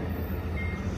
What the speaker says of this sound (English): there go that train